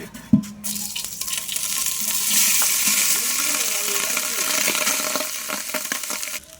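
Ghee heats in a pot with cloves, cinnamon and cardamom. A sharp metallic clank leads into a steady, hissing sizzle that swells and stays close.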